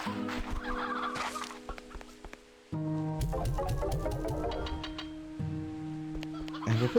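Fowl in the video game Slime Rancher 2 cluck and gobble in short bursts amid game music, with a louder busy patch in the middle and quieter stretches on either side.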